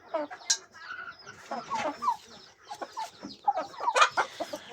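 Chickens cluck repeatedly in short, irregular bursts, fairly close, with several birds overlapping and no talking.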